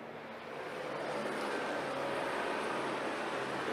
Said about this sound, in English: I love helicopters and I love planes, so that's never gonna get old